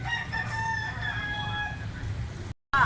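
A young stag rooster of Kilso bloodline crowing close by in one long drawn-out call, fairly loud and alone, followed by a brief cut and a short burst at the end.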